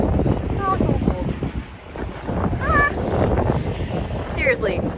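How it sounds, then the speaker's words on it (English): Strong, cold wind sweeping through a city street crossing in Matsuyama, Ehime, heard as a loud, rough buffeting roar that swells and dips, with a few voices audible beneath it. "now it's super windy. Can you hear the wind?"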